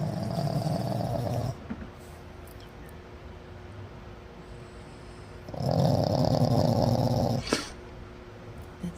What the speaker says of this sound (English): She is snoring with her eyes open.